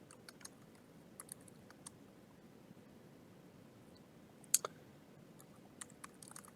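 A handful of faint, scattered keystroke clicks on a computer keyboard, spaced irregularly over a quiet room background, with one sharper click standing out midway.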